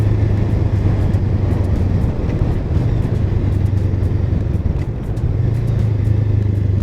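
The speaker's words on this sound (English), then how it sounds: "I am getting more used to downshifting on bikes." A motorcycle engine drones steadily while riding, close and loud, its pitch shifting slightly as the rider downshifts, with wind noise and no talking.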